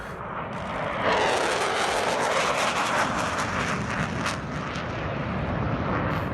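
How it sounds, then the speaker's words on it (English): An F-15 jet aircraft roaring past, a loud, broad, sustained rush of engine noise that swells after the first second and holds strong throughout. "I think this is the second aircraft coming past"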